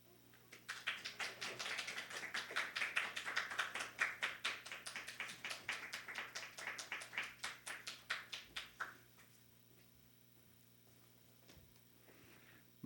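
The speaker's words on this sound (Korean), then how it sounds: "할렐루야 하면서 손뼉 치면 좋겠습니다" A church congregation claps in welcome, a dense burst of rhythmic handclaps that builds, holds steady for several seconds, then fades out, leaving quiet room tone.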